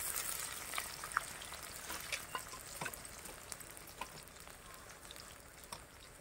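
Chopped onions sizzle and crackle steadily in a hot pan while being stirred, with occasional sharper ticks and scrapes rising over the continuous frying hiss, close and fairly quiet.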